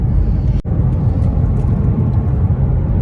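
A manual transmission car engine sends out a loud, continuous low rumble close by, with a brief sharp break early on and no talking.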